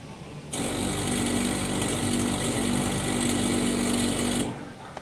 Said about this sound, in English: But yes, the jackhammer does work.